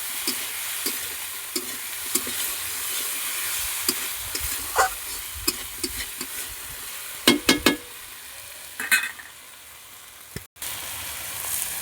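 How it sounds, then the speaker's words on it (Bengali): A spice paste with dry chilli powder, a little turmeric and salt being stir-fried in a pan: a steady sizzle with repeated scraping and stirring strokes, a few louder clatters near the end. "ভালো করে মশলাটা এরকম কষাতে থাকবে।"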